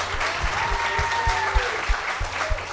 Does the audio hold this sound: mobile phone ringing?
no